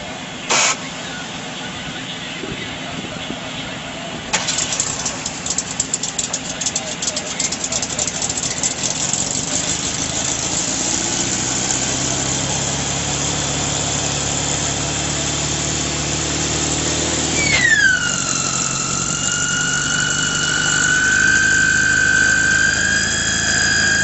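A jet truck's diesel-fueled jet engine starts up and winds up, a rising whine sweeping upward partway through and settling into a loud, steady high-pitched roar over a rumbling engine bed.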